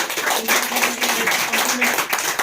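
A seated audience at a business meeting claps for the speaker's uplines, steady overlapping handclaps with sharp bursts, loud and continuous.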